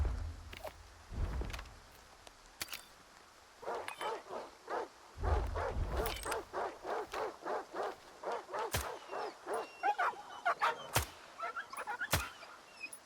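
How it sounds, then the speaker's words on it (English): Dogs in the video game S.T.A.L.K.E.R. 2 bark in a rapid run of sharp, fairly loud yelps, with scattered thuds and whimpers between bursts and some ambient game noise behind them. "Those dogs look like they need to be, unfortunately, put out of their misery."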